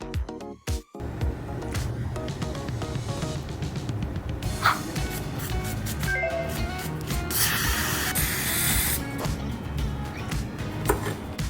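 Brake cleaner sprays onto a car's brake caliper in hissing aerosol bursts of uneven length, some short and some sustained, close and fairly loud among workshop handling noises.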